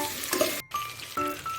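Chopped onions for chicken curry fry and brown in a pan with a bright, even sizzle, cut by a brief silence and the scrape of stirring.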